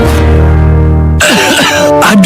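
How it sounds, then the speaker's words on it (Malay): A woman coughs in a Malaysian radio advert for honey and sea cucumber cough syrup, a short burst of harsh coughs following a sustained musical tone. "Aduh, batuk pula dah."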